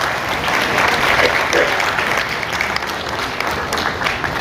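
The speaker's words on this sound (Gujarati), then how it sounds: "એટલે એમના માટે જોરદાર તાળીનો ગણગણાટ કરો." An audience claps loudly and steadily throughout at a charitable trust's stage event honouring donors, a dense continuous applause with no clear breaks.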